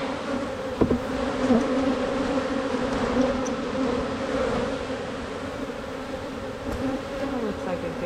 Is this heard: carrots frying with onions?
no